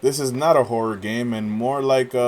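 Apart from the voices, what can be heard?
None of the usual background noises is heard.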